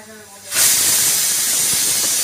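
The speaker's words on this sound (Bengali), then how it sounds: "প্রেশার কুকারটা সিটি উঠবে উঠবে হয়ে গেছে" A kitchen pressure cooker's whistle releases steam in a sudden loud hiss that holds steady and close after a quieter start, where a voice is briefly audible.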